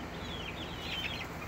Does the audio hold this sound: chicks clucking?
yes